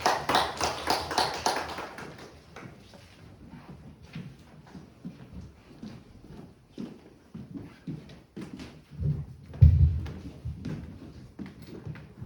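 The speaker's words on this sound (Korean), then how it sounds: "우리 하나님께 영광의 박수를 올려드리겠습니다" Congregation clapping during a student Sunday worship service in a church, a burst of dense clapping at the start that thins into scattered claps and shuffling, with a louder thump near the end.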